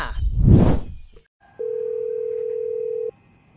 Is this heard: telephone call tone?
yes